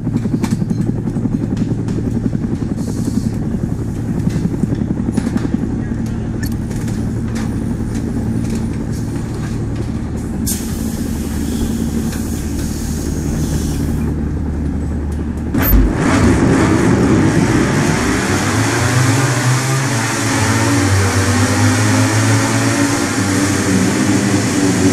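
MotoGP bikes roar and rev steadily at the Grand Prix of the Americas in Austin, Texas, within the game MotoGP 17, the engine note loud and sustained, then shifting to a pass-by sweep with changing pitch near the end.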